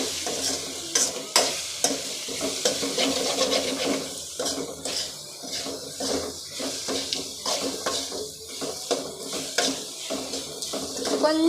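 Spices such as turmeric, chili powder and salt are stirred into a frying mixture in a pan, giving a steady close sizzle with repeated scraping and clinking strokes of a spoon against the pan throughout.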